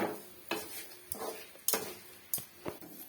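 Dried curry leaves drop into a hot pan for garlic rice, giving a low sizzle broken by the scrape and clink of a spoon stirring against the metal about six times, close and fairly quiet.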